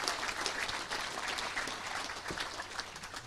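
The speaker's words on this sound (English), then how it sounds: "So give yourselves a round of applause." A dense, even wash of applause fills the room at a Touchdown Club awards banquet, with many hands clapping at moderate distance and no voices over it.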